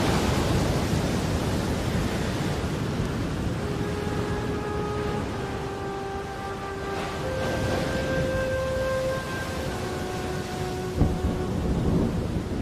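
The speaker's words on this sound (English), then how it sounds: "Christmas Island has caught the edge of a full-blown tropical cyclone." A tropical cyclone at sea off Christmas Island brings steady, roaring rain and wind noise with deep thunder rumbles, while faint tonal sounds drift over the wash.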